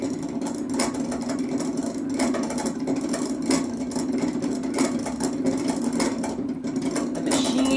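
A handmade clockwork gear mechanism with a spoke gear driving a cage gear that turns a top rod and silk bobbin runs steadily, giving a close mechanical hum with a rapid, even train of clicks and knocks.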